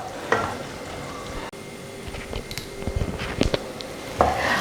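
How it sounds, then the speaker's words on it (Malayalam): Tomatoes and onions are sautéed in a pan: a low sizzle runs under repeated scraping and tapping of a utensil against the pan, with a few sharper clinks. "അതുവരെ നമുക്കൊന്ന് വഴറ്റി കൊടുക്കാം."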